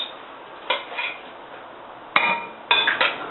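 Apple crumble filling goes into an 8x8 Pyrex glass baking dish, with a few close clinks and scrapes of a utensil against the glass in short separate bursts.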